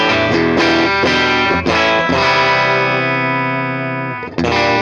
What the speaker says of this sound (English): the further into class B I go, the more grittier and grainier the distortion is